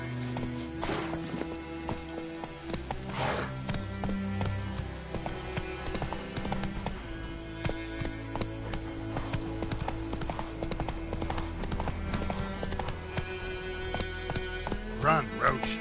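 A horse gallops in The Witcher 3, its hoofbeats clip-clopping steadily throughout with game music and ambience, while someone talks over it.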